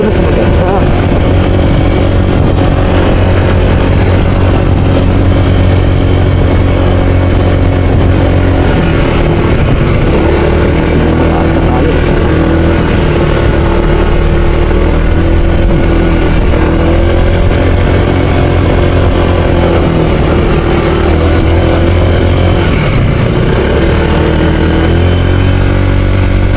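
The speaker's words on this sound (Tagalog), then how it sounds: "Motor lang nakakaakyat dito." Honda ADV160 motorcycles climb a rough track up to a campsite in Rizal, their engines droning steadily and fairly close throughout, with a loud, wind-buffeted rumble and people talking over it.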